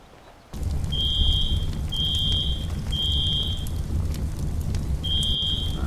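Fire alarm going off inside the video game FiveM during a fire scene, a loud electronic tone sounding in regular repeated bursts roughly once a second over a rumbling, roaring background.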